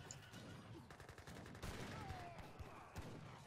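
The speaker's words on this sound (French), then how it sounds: "Regardez les Gatling comme les dégâts que ça fait." Gatling guns firing in Age of Empires III, a rapid patter of gunshots rattling in quick bursts amid battle noise, soft and distant-sounding, with a few heavier booms mixed in.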